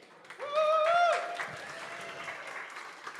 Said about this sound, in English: Let's give Richard an applause